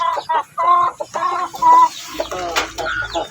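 A chicken clucks repeatedly at close range in short, throaty bursts, with a few louder calls near the end.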